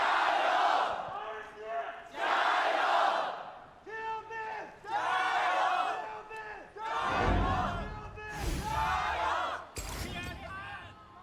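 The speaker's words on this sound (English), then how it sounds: "Already, you can hear the crowd." Stadium crowd at an RNG home esports semi-final, a huge audience roaring and chanting in rising and falling waves, with a few sharp slams, loud and close throughout.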